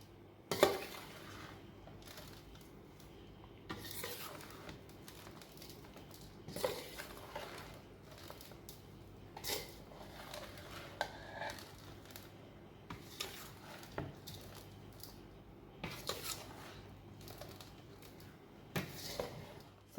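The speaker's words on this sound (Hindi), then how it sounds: "इन सब चीज़ों को मिक्स कर लेते हैं।" Coarsely ground spices being mixed by hand in a bowl for lasoda (gunda) pickle, quiet scattered scraping and gritty rustles with occasional clinks of a spoon against the dish, close up and without talk.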